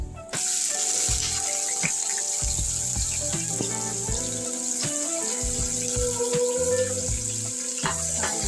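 Onions and spices such as bay leaf and cinnamon frying in hot oil for a masala tomato curry, a dense, loud, continuous sizzle with small crackles running steadily throughout, no voices.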